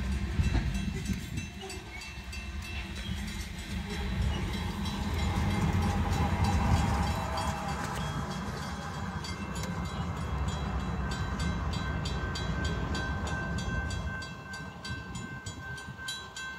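Union Pacific manifest freight train led by UP 8680 rolls through the Elliot Road crossing, a steady loud rumble of rail cars with a high squealing tone near the end, heard from inside a truck cab.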